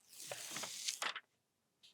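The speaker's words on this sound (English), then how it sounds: "I'm going to print mine on a thermal label printer" Thermal label printer feeding out a shipping label, a quiet burst of whirring, ratcheting mechanical bursts lasting about a second, followed by near silence and a brief final click.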